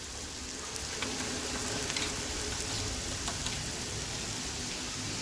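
Red chili powder hits hot oil for a roasted onion chutney and sizzles loudly and steadily throughout, a dense crackling frying hiss with a few sharper pops and no voices.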